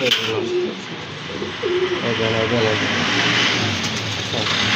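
Pigeons from a dealer's varied breeding collection coo in low, repeated, throbbing phrases close by. The cooing runs under steady background noise while someone talks over it.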